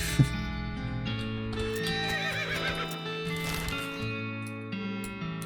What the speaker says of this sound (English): You hear a shout in the distance behind you and a thunder of hoofs. A riderless horse is racing towards you